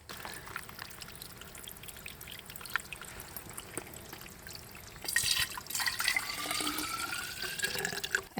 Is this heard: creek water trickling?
yes